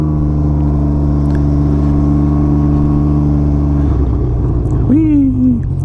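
A Can-Am Ryker three-wheel motorcycle, its speed sensor disabled and revs limited, held at full throttle: a loud, steady droning engine note that drops and roughens near the end, where a voice briefly whoops over it.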